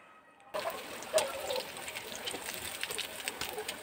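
Bread chop snacks sizzle in hot oil in a home kitchen, a dense crackling hiss that starts abruptly and continues close and steady with small pops.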